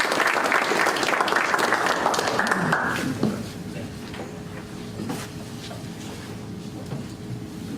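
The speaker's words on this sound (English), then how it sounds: "Please give me a warm round of applause for David Jango." Warm applause from an audience at a high school football hall of fame announcement, loud and dense for about three seconds before cutting off, followed by quiet room tone with a few stray claps.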